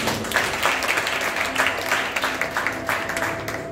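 A church congregation applauds the Lord in a sustained wash of clapping, moderately loud and steady throughout, with faint voices mixed underneath.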